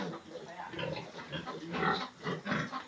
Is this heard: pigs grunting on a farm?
yes